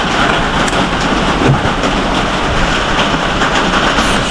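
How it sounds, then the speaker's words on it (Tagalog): Heavy, unrelenting rain drums on a noisy roof during a prolonged downpour, a loud dense roar of close, steady patter that fills the whole stretch with no talking. "Wala talagang tigil ang ulan."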